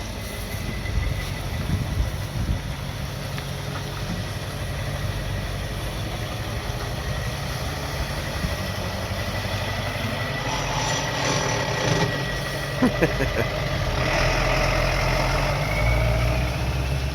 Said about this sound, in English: 2018 Land Rover being towed by a 96 International